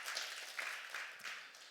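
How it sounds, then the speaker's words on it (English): An audience at a community event honoring local heroes breaks into a round of applause, a dense, steady wash of many hands clapping that sounds fairly soft and distant and continues evenly for under two seconds with no speech. "Round of applause for that."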